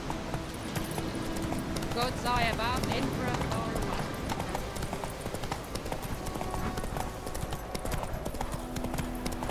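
Steady clip-clop of horse hooves trotting in The Witcher 3, with a horse whinnying early on, over a constant game soundscape and a voice talking.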